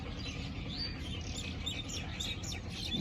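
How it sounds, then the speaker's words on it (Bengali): Small birds chirp and twitter repeatedly in a lively, continuous chorus beside Kaptai Lake, set over a steady low outdoor rumble. "পাখিগুলো কিচিরমিচির ডাকছে।"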